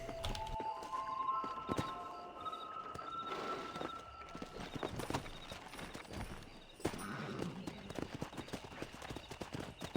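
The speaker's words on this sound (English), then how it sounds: "Looks like we're getting a crash course on how to race horses" Rhythmic hoofbeats clatter steadily as horses gallop in a race in the video game Red Dead Redemption, with an occasional whinny and some electronic tones layered over the running beat.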